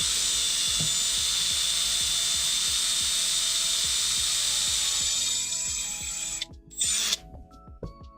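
A drill bit cuts on a CNC mill fitted with a BLDC spindle, giving a loud, steady high-pitched whine with rattling chatter underneath. It runs continuously for about six seconds, then cuts out and leaves quieter intermittent mechanical noise.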